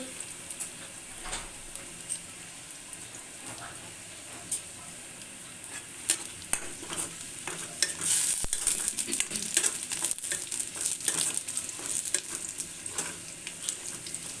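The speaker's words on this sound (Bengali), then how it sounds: "ভালো করে লাল করে একটু ভেজে নিব।" Onions frying in a pan for lentil dal sizzle steadily up close, with intermittent stirring scrapes and light clinks that grow busier midway, and no one speaks.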